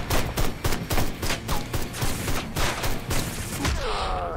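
Heavy gunfire from a Gatling gun in the video game Ride to Hell: Retribution: loud, continuous rapid bursts in a steady pulsing rhythm, tailing off into fainter noise at the end.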